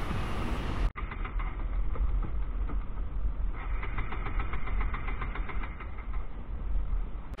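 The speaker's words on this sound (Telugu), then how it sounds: "ఇప్పుడు బండి జర్క్ అనేది ఇస్తుంది, పెట్రోల్ అనేది అయిపోయింది" A six-year-old Bajaj NS200 motorcycle engine running low as its petrol runs out, a steady close rumble with uneven pulsing after a brief cut near the start, no talking.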